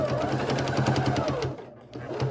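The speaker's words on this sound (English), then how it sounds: "I'm gonna go ahead and stitch this together" Sewing machine stitching quilt binding, a fast rhythmic run of needle strokes for a couple of seconds, briefly pausing, then resuming, close and clear.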